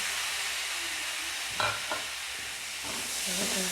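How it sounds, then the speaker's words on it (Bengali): Tomato stirred and sautéed with spices in a pan for a mutton and kabuli chana curry, a steady frying sizzle with a few spoon scrapes and stirring rustles, close and fairly loud. "ওই টমেটোটা এর মধ্যে আমি মিশিয়ে এটাকে ভালো করে কষিয়ে নেব"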